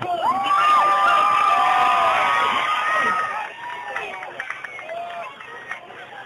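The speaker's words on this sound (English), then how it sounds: "Let's give him a big round of applause." A crowd at a town Christmas lights switch-on in Trowbridge greets Father Christmas with loud cheering, whoops and children shouting. The noise fades after a few seconds into scattered calls.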